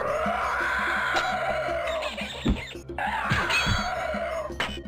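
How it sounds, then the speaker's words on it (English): A skeleton enemy in the video game Daggerfall lets out repeated harsh, shrill screeches during a fight with a bat, loud and continuous with brief breaks and thumping combat hits. "Sick of the skeleton screaming."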